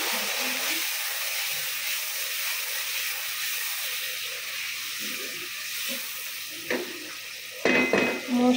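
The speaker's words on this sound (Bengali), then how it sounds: "মশলাগুলোকে একটু পানি দিয়ে কষিয়ে নেব।" Ground turmeric, cumin and other spices with a little water sautéed in a pan over medium heat, a continuous soft sizzle and hiss with occasional utensil clinks and scrapes, louder toward the end.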